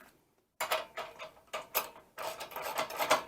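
A ratchet snugging up a bolt and nut on an RV jack stabilizer, several short bursts of close clicking strokes separated by brief pauses, no voices.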